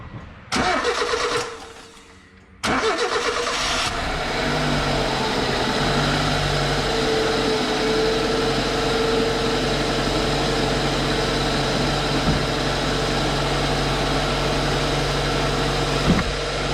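A car engine cranks, catches and starts after oil is added to the motor, then settles into a loud, steady idle that runs on evenly with a faint hum.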